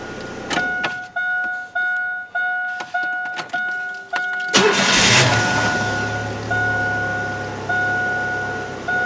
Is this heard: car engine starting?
yes